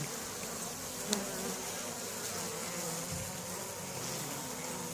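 Honeybees buzzing inside an opened hive in November, cardboard and cellophane lining the frames; a steady, close, dense hum fills the whole stretch, with one brief louder buzz passing near.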